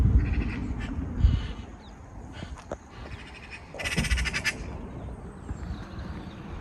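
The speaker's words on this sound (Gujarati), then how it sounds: "અને બર્ડ્સ પણ અવાજ કરે છે સરસ મજાના મોર્નિંગના" Outdoor ambience with bird calls scattered throughout, including a burst of busy chirping partway through, over a low rumbling background.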